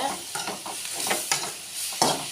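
Tomatoes frying in oil with curry leaves, a close, continuous sizzle broken by several scraping stirs of a spoon against the pan, no talking.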